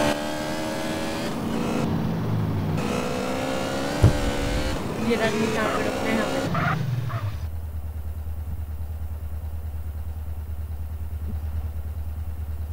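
A video game motorbike engine rumbles and shifts pitch while someone talks over it, then settles into a lower steady drone.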